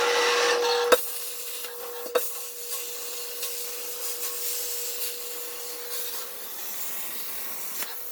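A computer-controlled cutting machine slices a cardboard template for a DIY hydraulic handbrake on a drift car, giving a steady scraping, rubbing drone with a faint constant whine and a few sharp ticks, close and alone for the whole clip.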